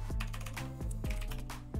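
Quick typing on a Portuguese-layout computer keyboard, rapid soft key clicks in a steady run, close and quiet, over a sustained low droning tone.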